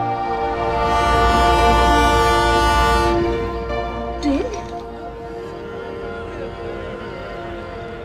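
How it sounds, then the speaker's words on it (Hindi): Train horn blaring loud and sustained over the rumble of a running train for about three seconds, then the rumble carries on under lingering tones and a brief squeal, staged as a horror show effect. "ये ट्रेन अब तक मरी नहीं,"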